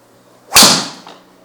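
A single sharp, bright whack of a Ping G430 Max 10K driver striking a golf ball rings out over quiet background, fading quickly with a faint second tap just after.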